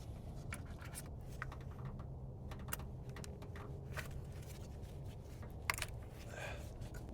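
Electrical connectors being unclipped from the ignition coils of a 2011-2016 Hyundai Elantra during spark plug replacement, giving a scatter of small, close, crisp plastic clicks and handling noises over a low steady hum.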